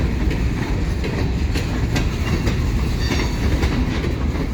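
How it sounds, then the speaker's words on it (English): A Wheeling & Lake Erie 617 EMD train moves slowly over jointed rail near Connellsville, giving a continuous close rumble with repeated clickety-clack wheel beats and no talking. "the train's going slow"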